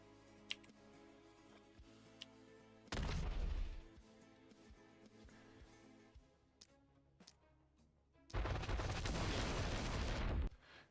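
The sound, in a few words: gunshot in the video game The Last Spell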